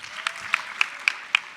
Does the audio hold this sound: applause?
yes